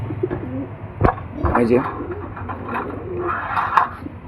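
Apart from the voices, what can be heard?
old desi high-flyer pigeons cooing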